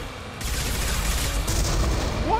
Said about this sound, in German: Der explodiert ja.